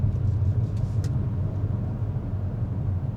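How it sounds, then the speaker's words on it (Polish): Tyre roar heard from inside a Mazda 6e cabin fitted with winter tyres, a steady, loud low rumble with a faint brief tick partway through and no voices. "uważam, że dość mocno słychać opony. Być może to jest kwestia tego, że auto stoi na zimowych oponach"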